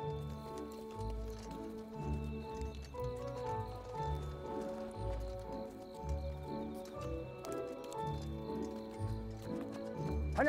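Horses walk along a path in a wartime action drama, hooves clip-clopping in a steady, repeating rhythm at moderate volume, layered over faint background music with occasional soft jingles.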